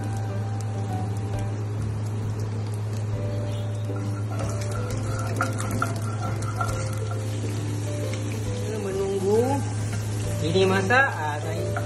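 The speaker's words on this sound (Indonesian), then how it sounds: "Saya sebelah ni saya menumis sayur. Sayur masak ikan bilis dengan bawang putih." Vegetables stir-fry with anchovies and garlic in a hot pan, giving a steady loud sizzle with occasional stirring scrapes, while a person speaks briefly.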